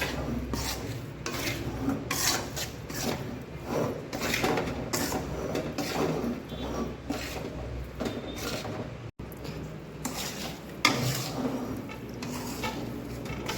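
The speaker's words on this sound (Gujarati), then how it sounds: "ઘી ગરમ થઈ જાય એટલે આપણે એમાં લોટ એડ કરી દઈશું તેને એકદમ હલાવી લઈશું" Flour roasting in hot ghee for sukhdi, stirred steadily in a pan over a medium flame, gives a continuous rasping scrape with a repeated rubbing rhythm, close and fairly even throughout.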